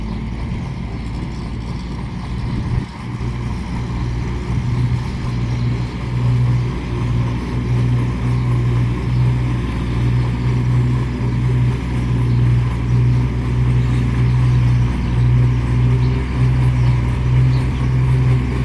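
A tractor and a six-wheel truck drive over a graded dirt road to flatten it, giving a loud, continuous low engine drone that holds steady and close for the whole stretch.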